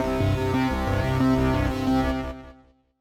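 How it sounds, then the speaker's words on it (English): A PolyKB II synthesizer plays a simple four-step sequencer pattern of root, fifth and octaves, repeating steady notes before the sound cuts off and decays to silence. "I've recorded a very simple 4-step sequencer pattern for this video."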